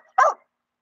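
A bulldog gives a single short, sharp bark, loud and close, followed by silence.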